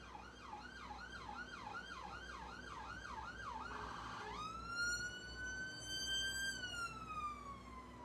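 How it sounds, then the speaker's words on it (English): An emergency siren wails in rapid up-and-down cycles, then switches to a long rising tone, heard at a distance under steady background noise with no talk. "Just wait for the siren to end."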